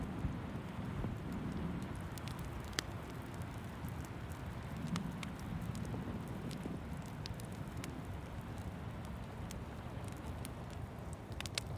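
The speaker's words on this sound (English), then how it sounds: "You glance back at the window and notice the way the raindrops create tiny streams as they slide down the glass." Steady rainstorm against a cabin window, a dense continuous patter with occasional sharper drop taps, even and unbroken throughout, with no voices.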